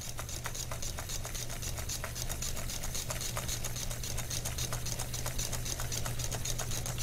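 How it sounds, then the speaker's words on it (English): Vanilla-flavoured whipping cream being whisked towards soft peaks, a fast steady rattling patter of the whisk against the bowl that runs continuously and fairly quietly throughout. "So I'm just going to whisk that until we get to soft peaks."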